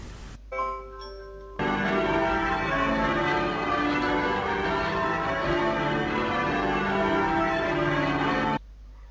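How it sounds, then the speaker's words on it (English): A church bell rings loudly and steadily, its rich resonant tolls overlapping into a continuous sustained ring for most of the stretch, preceded by a few brief chime-like tones at the start. "The church bell rings."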